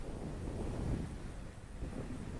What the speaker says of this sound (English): I don't know if you guys can hear the wind in the camera, but it's picking up again